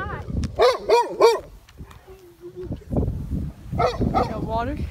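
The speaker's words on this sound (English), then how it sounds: "We found a dog on the bike." A dog barks in a quick burst of three sharp yips outdoors in Ocean City, then barks again near the end, close and loud, with people talking around it.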